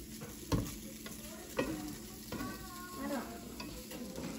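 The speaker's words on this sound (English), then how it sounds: "so hash brown skillet just got done" A hash brown skillet frying in a home kitchen, a steady close sizzle with a few scraping stirs and utensil knocks, no talking.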